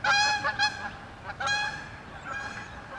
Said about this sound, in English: Those geese were hella loud.